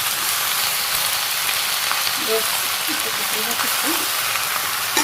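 Malabar spinach (pui shak) greens frying in a pan in a village kitchen, a steady broadband sizzle running the whole time with faint stirring clicks and a low voice speaking underneath.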